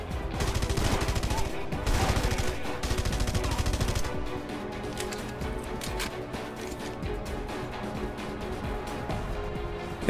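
Video game gunfire from Red Faction Guerrilla: dense bursts of automatic shots crackle loudly through the first four seconds, then give way to a steady rumble of game ambience and scattered distant pops.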